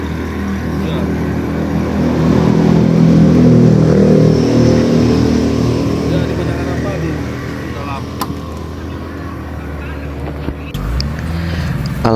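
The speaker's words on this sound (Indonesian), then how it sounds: "Tim Basarnas secepat mungkin memperbaiki mesin perahu tersebut agar kita bisa evakuasi warga yang ada di dalam." Rescue team's boat motor running after repair, during flash-flood evacuation on the Padang Harapan road in Trumon, South Aceh: a loud, steady engine drone with a deep rumbling hum that shifts abruptly near the end.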